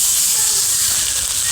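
Chow mein noodles coated in sauces fry in a wok over moderate heat, giving a loud, continuous hiss and sizzle that holds steady throughout.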